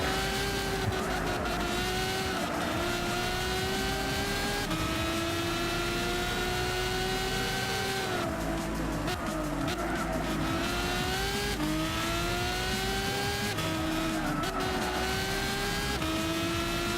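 Race car engines in Gran Turismo 6, including a pack of Audi R8 LMS cars, roar steadily and close, their pitch rising and dropping through gear changes and passing cars, with no talk.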